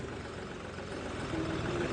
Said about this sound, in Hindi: ये 3 नंबर गियर के अंदर भी ट्रैक्टर उठ गया है।